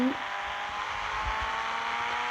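A car engine in the video game Indian Bike Driving drones steadily and close, with a slight rise in pitch as it accelerates.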